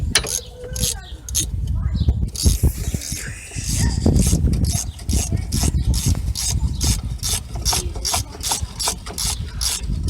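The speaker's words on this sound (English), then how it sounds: "just take the ratchet." A ratchet clicks during brake work on a 2002 Chevrolet Cavalier, loud and close. Rapid pawl clicks come in bursts among mechanical clatter, and talk is heard in places.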